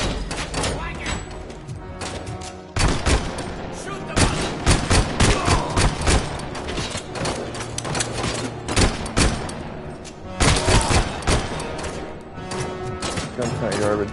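Gunfire from a gun in the video game RoboCop: Rogue City, with loud sharp repeated shots in bursts and rapid volleys throughout, over a busy game soundscape.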